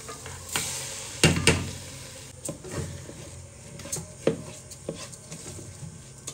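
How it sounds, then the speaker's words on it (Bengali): Washed rice and lentils land in a pan of frying potatoes, with a soft sizzle broken by several sharp clatters and scraping stirs at an irregular pace. "এবার এর মধ্যে দিয়ে দেব ধুয়ে রাখা চাল আর ডাল।"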